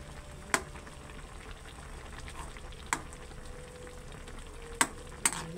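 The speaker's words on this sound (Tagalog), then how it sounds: "Ayan, konting kulo na lang, luto na yan." A pot of shrimp sinigang with okra bubbling on the stove, a soft continuous simmer broken by a few sharp clinks of a utensil against the pot.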